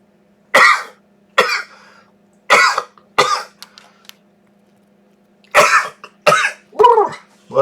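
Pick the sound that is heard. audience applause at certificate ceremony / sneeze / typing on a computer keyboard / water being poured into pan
sneeze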